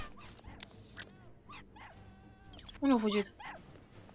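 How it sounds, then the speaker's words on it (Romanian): Inside the game Hitman Blood Money a small dog yips and barks in short, scattered bursts with one louder whining bark near the end, mixed with game noises while a person talks. "E un cățel."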